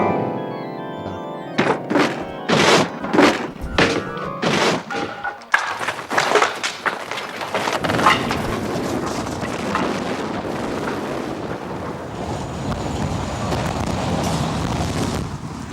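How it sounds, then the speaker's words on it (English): A sound effect of a church organ falling: a run of heavy thunks and crashes that gives way to a long, loud, rumbling explosion, with no talk over it. "that's a church lady playing an organ that falls, maybe a church man, I don't know, and that turns into an explosion"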